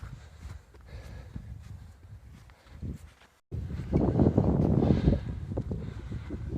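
Wind gusting across a mountain pass in Jasper, a low rumbling buffet that swells into a louder, sustained roar after a brief dropout midway, with no talking.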